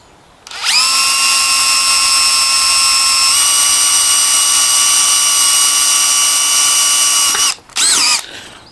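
A power drill bores a 6.5mm hole, spinning up with a steady high-pitched whine that holds loud for several seconds, then stops and gives a brief second burst.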